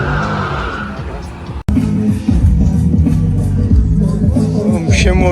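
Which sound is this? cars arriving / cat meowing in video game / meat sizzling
cars arriving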